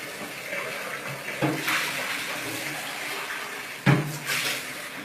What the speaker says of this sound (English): So I'm just rinsing out my Vitamix. You can hear the water running